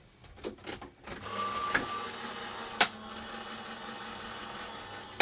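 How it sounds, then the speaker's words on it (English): A die cutting machine feeds a sentiment plaque card through its plates with a steady low mechanical whir and faint hum, punctuated by a few sharp clicks and handling knocks, fairly quiet and close. "I'm going to run that through my die cutting machine."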